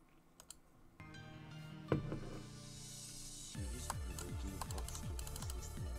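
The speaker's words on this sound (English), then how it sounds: "Mouse clicking intensifies." Rapid computer mouse clicking during a game stream, a steady run of sharp, close clicks that grows faster and denser partway through, with no talking.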